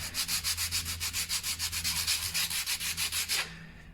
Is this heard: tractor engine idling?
no